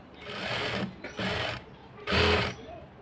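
A sewing machine stitches a blouse hook patti in three close, steady whirring bursts, each running about half a second with short pauses between, and no talking over it.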